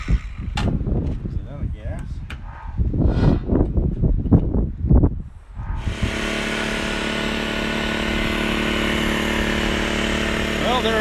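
A Honda EM600 generator sits unused for 15 years, then its small engine catches and settles into a loud, steady running drone after several seconds of talk and handling noise.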